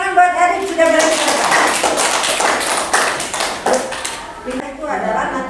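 Sixth-grade elementary school class in Bandung clapping for a pupil, a brief burst of close, brisk hand claps in a classroom, framed by a teacher speaking before and after.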